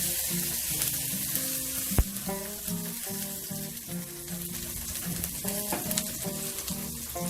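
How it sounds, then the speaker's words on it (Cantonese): Ginger and garlic stir-fry in a hot wok with a steady crackling sizzle, a sharp knock of the spatula near the start and soft background music underneath. "爆一爆呢個薑同埋蒜頭"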